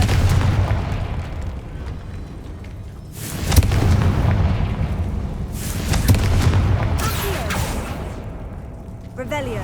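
Repeated Confringo fire spell explosions in Hogwarts Legacy: several loud, booming fiery blasts spaced a few seconds apart, each with a rumbling roar and crackle, while other game sounds and sparkles play in the background.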